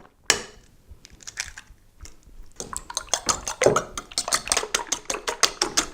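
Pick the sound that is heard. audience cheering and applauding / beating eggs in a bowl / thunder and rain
beating eggs in a bowl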